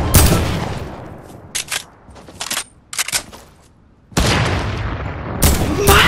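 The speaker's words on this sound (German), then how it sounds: "Schießt er denn mit der AR?" Assault rifle fire in Fortnite: loud bursts open and close the passage, with several short, sharp volleys of shots scattered through a quieter middle stretch.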